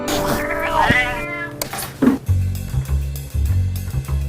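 A cat meows loudly and drawn-out near the start, followed by another short mew, close to the listener, with a low droning hum and some background voice.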